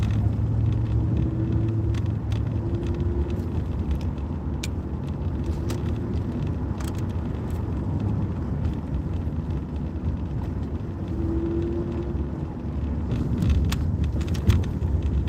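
Steady low rumble of a car driving through an Arizona town, continuous road and engine noise heard from inside with no talking.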